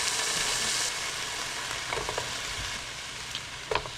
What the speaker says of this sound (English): browning up the bacon